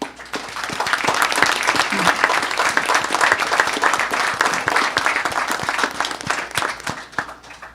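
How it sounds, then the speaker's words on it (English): A city gathering applauds firefighters, police officers and EMTs, loud continuous clapping from a crowd that swells, holds steady and tapers off near the end. "And if we could, a round of applause for them."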